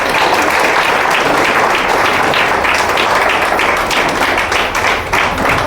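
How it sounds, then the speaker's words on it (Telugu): Sustained loud applause from an audience at a business meeting, a dense wash of many hands clapping throughout, with faint voices underneath. "గట్టిగా క్లాప్స్ చేద్దాం వీళ్ళకి."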